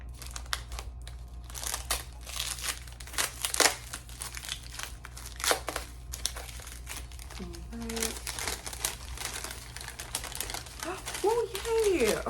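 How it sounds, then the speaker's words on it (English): Packing paper crinkles and crumples in repeated bursts while houseplants are unboxed from a subscription box, close and loud, with a person talking intermittently over the rustling. "having trouble hearing me over the crinkling of the paper"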